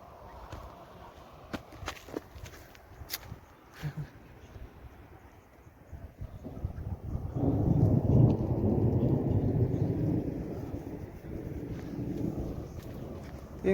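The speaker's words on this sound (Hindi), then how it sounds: "इस साइड में आज बहुत बारिश हो रही है।" Heavy rain falls in a Saudi village. Scattered taps and wind give way to a broad, steady rush of downpour that swells midway and stays loud and continuous to the end.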